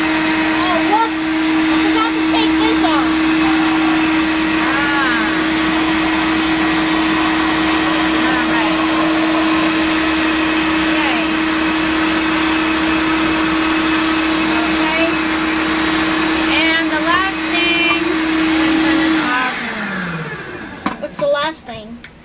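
A kitchen blender runs steadily for about nineteen seconds, loud and close, blending avocado pesto ingredients, then winds down and stops, with a few clunks and clatters after.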